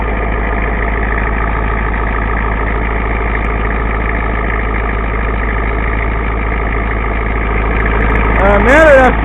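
A 7.3 IDI diesel engine running on burnt motor oil idles steadily and close by, with a constant low rumble and a rough rhythmic chug; another sound briefly rises over it near the end.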